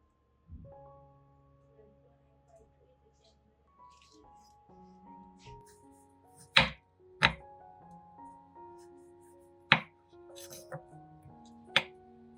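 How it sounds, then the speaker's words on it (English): A knife cuts through fresh tomatoes on a board in a few sharp, close chops, spaced irregularly over a quiet background with faint soft tones and no talk. "First, cut off the top and bottom of the tomatoes."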